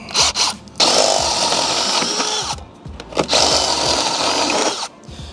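A power drill fitted with a step bit drills out holes for a door safety system install, two sustained loud whirring bursts separated by a brief pause, close by with no talking.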